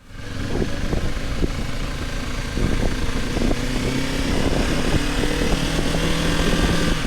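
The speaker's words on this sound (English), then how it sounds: "my shifts or taking the roundabout in first gear with a lot of engine braking fighting back" A beginner rides a motorcycle through neighborhood streets and roundabouts, the engine droning steadily and loudly close up with pitch changes as gears shift and engine braking pulls back in first gear, no talking.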